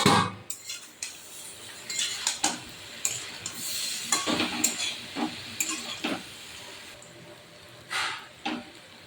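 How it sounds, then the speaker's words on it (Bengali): A fish and vegetable curry is stirred in a pan after the lid comes off, with irregular close scrapes and clinks of a spoon against metal over a faint sizzle. "এদিকে মাছের মধ্যে ঢাকনা খুলে সবজিটা একটু নেড়ে নেড়ে দিতে হবে না হলে লেগে যেতে পারে"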